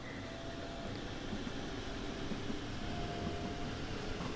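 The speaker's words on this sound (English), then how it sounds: "we'll let it move away from the platform just a touch, and then we'll start adding a bit of power" A train in Train Sim World 2 on the Aachen route eases away from the platform, giving a quiet, steady low rumble of rolling stock with faint tonal whines, constant throughout with no talking.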